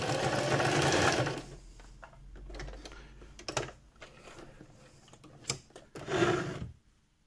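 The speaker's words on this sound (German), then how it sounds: "Und dann natürlich hier einfach so ein paar Stiche reinnähen." A sewing machine stitches a few seams on fabric for a My Little Pony G5 Izzy Moonbow hoof, running in rapid close bursts with short pauses and clicks between them.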